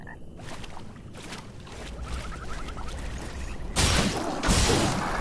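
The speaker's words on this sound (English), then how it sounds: "The frogs are really starting to tick me off." Frogs croak in a swampy area of the video game Mortal Shell, a short rattling chirp heard amid watery ambience and bursts of splashing noise that swell louder toward the end.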